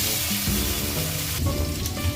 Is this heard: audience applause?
no